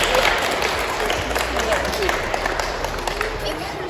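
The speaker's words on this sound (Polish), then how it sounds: "Wielkie brawa!" Steady, dense applause and cheering from a crowd celebrating the first-place team at a youth football tournament on small pitches, filling the whole stretch with a broad wash of claps and voices.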